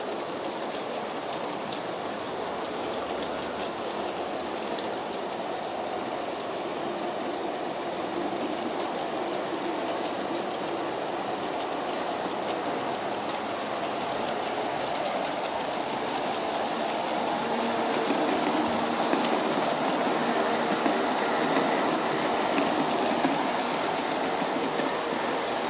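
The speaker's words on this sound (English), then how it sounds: "Here the train is going to come around the horseshoe curve and viaduct." A G scale Santa Fe model train runs on track around a horseshoe curve and viaduct, giving a steady, even rolling rumble with rhythmic clatter that grows slightly louder toward the end, with no talk over it.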